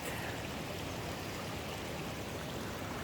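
Constant loud rushing of water pouring out from beneath a mountain at its base, an even, unbroken torrent heard close with no one speaking.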